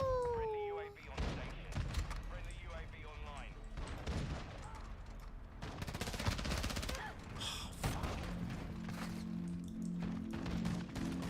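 Modern Warfare 2 gameplay delivers rapid bursts of video game gunfire and scattered impacts in clustered volleys, mixed with game sounds and an excited person talking over the action.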